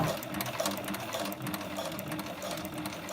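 A SewPro 441-PRO industrial sewing machine with a strong high-torque motor stitches Biothane, making a steady, close mechanical whirring and rhythmic clatter that runs without a break and with no talk.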